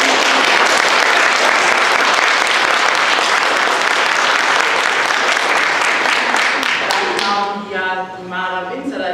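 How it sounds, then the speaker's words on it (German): Dense, loud applause from a panel audience at an anime convention Q&A, steady clapping for several seconds before thinning out as a voice and music begin near the end. "Demnach erstmal einen riesen Applaus für die Rollen."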